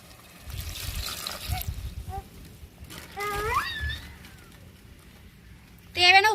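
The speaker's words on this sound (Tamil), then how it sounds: "தேவையான தண்ணி சேர்த்துக்கிறோம்" Water poured into simmering crab gravy in a pan, a soft trickle and splash alongside brief voices and outdoor bird chirps.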